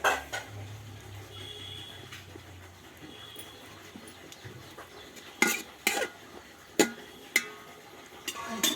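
A lid goes onto a pot of Kolkata-style aloo dum biryani with a few sharp metallic clanks and knocks, set against quiet kitchen background noise.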